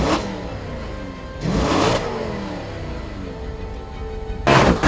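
A V8 engine in an Audi RS5 revs in short, loud blips separated by a steady idle rumble, close and without talk.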